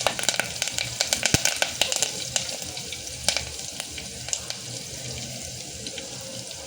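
Curry leaves crackle and sizzle in hot oil for a spicy village-style chickpea curry, with a steady frying hiss broken by sharp pops. The sound is close and continuous, and no one speaks.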